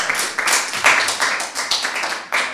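Delegates at a Model UN conference session applaud after an amendment passes, a short burst of close, crisp clapping from a small group, uneven and tapering off.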